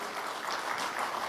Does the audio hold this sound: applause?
yes